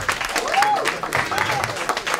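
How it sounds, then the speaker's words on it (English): At a stand-up comedy show, a club audience claps and cheers briefly, with a voice rising over the scattered applause. "By round of applause"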